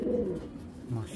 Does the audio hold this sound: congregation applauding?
no